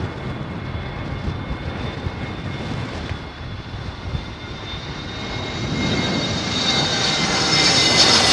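A Boeing 747 lands at London Heathrow in high winds, its steady jet engine roar building from a broad rumble to a louder, brighter whine near the end, with wind buffeting throughout.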